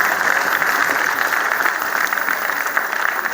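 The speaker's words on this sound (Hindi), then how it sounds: "समझ में आ गया तो एक साथ तालियां बजा दीजिए।" Audience applause at a Hindi comedy poetry gathering for Teacher's Day at a university, a dense sustained wash of many hands clapping continuously, loud and near throughout.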